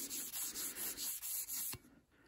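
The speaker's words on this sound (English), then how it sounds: "Get the rust off like that" Surface rust is rubbed off a steel barrel of a Crescent 16-gauge coach gun in quick, regular back-and-forth strokes, about seven close, scratchy passes, then it stops into quiet.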